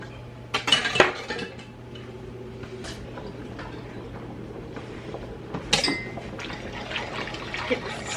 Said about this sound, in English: Get this stirred.